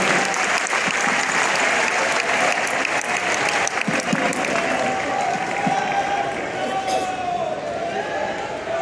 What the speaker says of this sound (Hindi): आप सभी से आग्रह करूंगा जोरदार तालियों से आदरणीय गृह मंत्री साहब का अभिवादन करें।